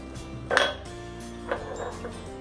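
Metal utensils clink against a serving bowl as red chilli coconut chutney is scooped into it: two short, fairly quiet clatters about a second apart in a still kitchen.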